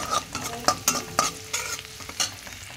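Spices tempering in hot oil for a village-style chicken curry, with a soft sizzle under a few close stirring and scraping clinks, and no voices.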